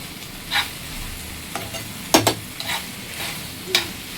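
Chilli chicken with spring onions is tossed in a pan over high flame, with a soft steady sizzle under a few sharp scrapes and clinks of the spatula.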